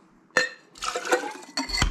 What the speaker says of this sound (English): A couple of chunks of ice.